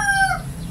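A Gilmore bloodline gamefowl rooster crows close by, finishing the drawn-out tail of a single crow that fades out within a second.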